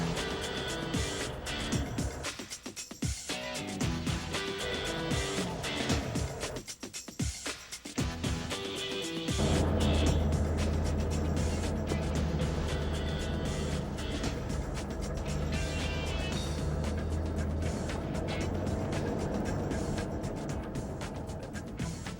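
A Humvee four-wheeling on a beach, its steady engine drone rolling on continuously and fairly loud, with a rougher, more broken stretch before it settles into a constant rumble.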